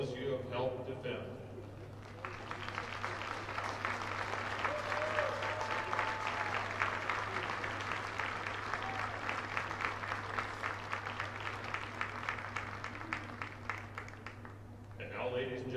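A crowd at a college football game breaks into sustained applause for veterans, steady clapping that swells and carries on before fading, with a voice speaking at the start and end.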